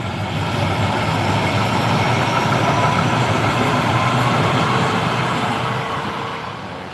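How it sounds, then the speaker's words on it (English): A train rumbles past at close range in a steady, dense roar that holds for several seconds and then begins to ease off, with no talking over it. "Here comes a train."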